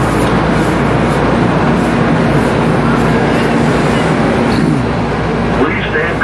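Train at Willowbrook station in Los Angeles, a loud steady rumble and roar of the rail car filling the scene throughout, close and continuous with no break.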